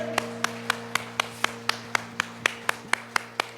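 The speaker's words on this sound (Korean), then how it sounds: "영광의 박수 한번 올려드립니다" Easter worship congregation at a Chicago church clapping in praise: a steady, evenly spaced run of sharp claps, about one every quarter second, moderately close over a low sustained organ or keyboard drone.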